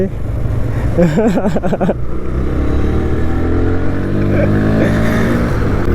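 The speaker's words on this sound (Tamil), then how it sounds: "நம்ம வண்டி வந்து பார்த்திங்கன்னா பல்சர் NS 160ங்க" A Bajaj Pulsar NS 160 motorcycle riding on a town street in Sivakasi, its engine droning loud and close and then building as it revs, with a voice briefly heard over it near the start.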